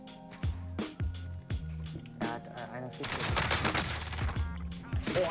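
Rapid turret gunfire in a shooter video game, a string of sharp loud shots then a dense continuous burst, close and harsh, with a voice talking over it.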